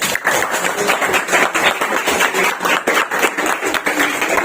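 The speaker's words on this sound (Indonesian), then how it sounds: "tepuk tangan dulu" Applause from a classroom audience of teachers and students during a teacher-training session, dense, steady clapping lasting several seconds, fairly close and loud.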